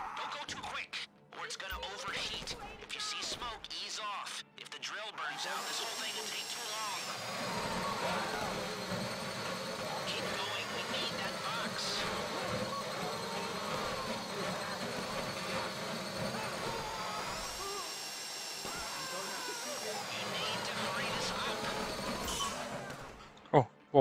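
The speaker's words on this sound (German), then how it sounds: "Das war ein toller Bohrer." A heist drill grinds continuously during a Fleeca Bank robbery in GTA Online, a loud steady mechanical whine that starts after a few seconds and runs almost unbroken, with voices talking over it.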